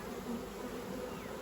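Honey bees from a weak hive drone in a continuous, even buzz close around the opened beehive, steady and moderately loud, with no voices.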